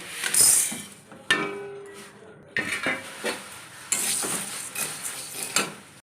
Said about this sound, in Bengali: কড়াটা গরম হয়ে গেছে, ডালটা একটু ভেজে নেব।